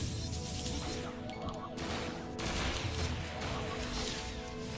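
Gunfire from a character's aerial shooting move in a video game: dense, continuous burst of crashing, blasting shots and impacts, loud and unbroken throughout, with a faint voice underneath.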